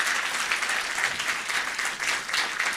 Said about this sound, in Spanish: Un aplauso más, por favor,